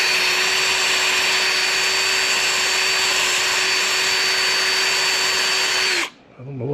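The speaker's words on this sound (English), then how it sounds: "But when I wire brush it, it makes brown dust." Steady, loud power-tool whine of a wire brush scrubbing a badly burned piston from a V12 engine, running continuously for about six seconds before cutting off abruptly and spinning down.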